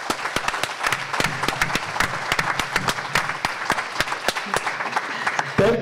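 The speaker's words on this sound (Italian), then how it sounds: "Un applauso da parte di tutti, di tutto il team," Audience applause at a talk about a small mountain hospital in Soveria Mannelli, made of distinct sharp claps in an uneven stream, moderately close and fairly thin, with no talking over it.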